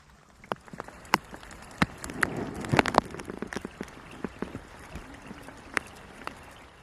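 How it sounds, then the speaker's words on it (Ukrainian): Scattered raindrops tapping on a surface by the Uzh River in Ukraine, irregular single drips and small clusters, fairly close, with quiet background between them. "Може, друзі, якийсь дощ знявся."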